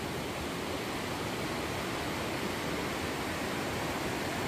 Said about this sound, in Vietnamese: Suối chảy di rào.